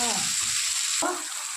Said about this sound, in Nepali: यसरी सबै मिक्स गरेर